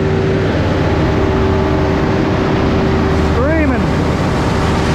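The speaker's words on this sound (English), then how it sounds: "You can hear this engine screaming." A grinding truck engine, roughly 500 horsepower, drones loud and steady up close, with a brief rising whine partway through.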